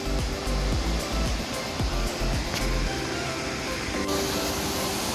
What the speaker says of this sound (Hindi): ये भी काफ़ी खूबसूरत वाटरफॉल है दोस्तों